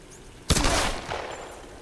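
Gunfire bursts out in the video game Tomb Raider, a sudden loud shot followed by a rolling, noisy tail and a second softer report, with no talking.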